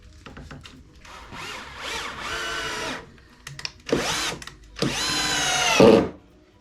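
A power drill whirs in several bursts, spinning up and stopping, with short pauses and clunks between runs as a screw is driven in close by.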